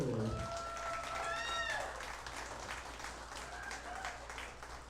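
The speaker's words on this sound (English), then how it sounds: "y'all give a big round of applause for these two best players in the world." Broadband crowd applause at a pool tournament, with cheering and a few whistles, steady and fairly loud throughout, under a background voice.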